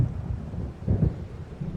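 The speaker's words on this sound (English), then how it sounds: "It seems there's a storm coming." Thunder from an approaching storm in the video game Alan Wake rolls as a deep, low rumble that swells about midway and fades, heard alone without talk.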